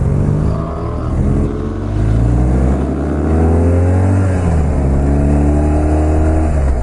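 A BMW 1200 RT motorcycle engine pulls in first gear through Alpine hairpin bends, loud and close, its revs rising and falling continuously with no talk over it.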